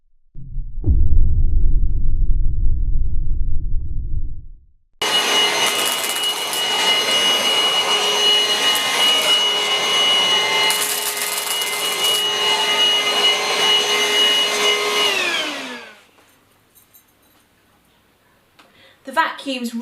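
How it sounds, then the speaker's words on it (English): A cordless stick vacuum cleaner starts up loud and close and runs with a steady whirring motor drone for about ten seconds, then winds down and cuts off. A low rumbling noise comes before it. "The vacuum's really light to use, really good swivel movements"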